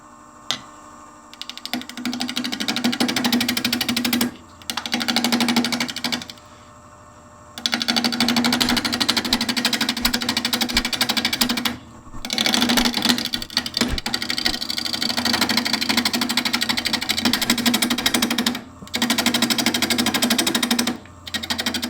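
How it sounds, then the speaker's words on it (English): A wood lathe turns a natural-edge branch into a bowl, the cutting tool producing a loud, buzzing chatter in long bursts separated by short pauses. No one speaks. "What I've done now is I've turned into the side and flattened this edge"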